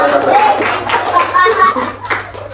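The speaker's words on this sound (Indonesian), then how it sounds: "Beri tepuk tangan buat Agus ya." Children in a classroom give a short burst of applause, their clapping mixed with young voices chattering.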